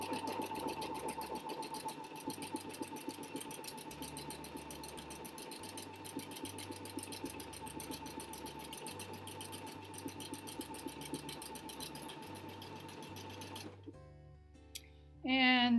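A sewing machine stitching with a 3 hole yarn foot runs at a fast, even mechanical patter for about thirteen seconds, close and moderately quiet, then stops, leaving a few brief clicks at the end.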